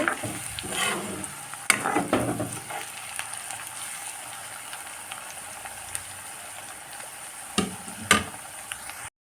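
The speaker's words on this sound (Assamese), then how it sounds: "এনেকৈ লৰাই থাকিব লাগিব, নহ'লে তলৰ ফালটো হৈ দেই যাব।" Onions with ginger and garlic frying in a pan give a soft, continuous sizzle broken by several sharp spatula scrapes and stirring knocks close by, loudest near the start and end.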